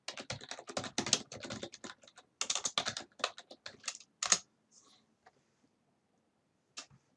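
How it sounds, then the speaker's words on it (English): Rapid clicking keystrokes on a computer keyboard as a search query is typed into Stata statistics software, dense bursts of close taps that thin out into a few isolated clicks and then silence. "went off to stata and typed in, I want some descriptive statistics."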